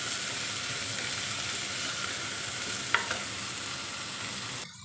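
Capsicum chunks frying in a pan for pav bhaji, a continuous close sizzle with a couple of sharp spatula knocks as they are stirred.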